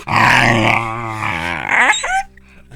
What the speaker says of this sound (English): that's thanks to this little guy, right here, my German Shepherd puppy.